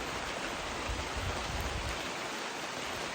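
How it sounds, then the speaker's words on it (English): Steady, slow rain falling outdoors, a constant soft broadband hiss with no pauses, fairly quiet and even throughout. "this is a nice steady rain, slow, wants to soak into the ground better"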